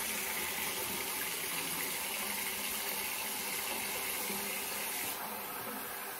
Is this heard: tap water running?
yes